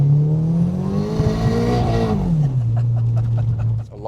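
A Merkur XR4Ti with a 2.4 Honda engine swap, an automatic with the clutch dipped, revs loud and close, the pitch climbing and holding before dropping back to a steady idle.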